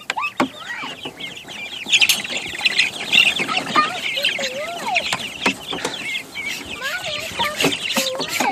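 A flock of chickens cluck and chatter all around, with baby ducks being introduced among them; busy overlapping calls, fairly loud and near, with some voices and rustling in the background.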